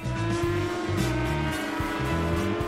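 A motorbike ridden in the mobile racing game Racing Moto, a loud, steady engine whine with shifting stepped pitch, close and continuous, with traffic-like tonal layers around it.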